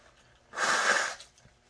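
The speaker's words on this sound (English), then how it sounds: "I'm gonna blow my nose." A person blows their nose into a paper towel after eating super spicy Korean ramen, one forceful, breathy honk lasting about half a second, close and fairly loud in an otherwise quiet room.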